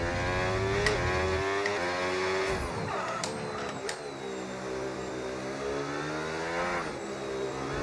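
Race car engine in a racing video game revving hard under throttle, rising and falling pitch through gear changes, a steady loud whine throughout the short run, with no talking.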